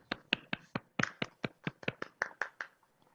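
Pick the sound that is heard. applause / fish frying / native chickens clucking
applause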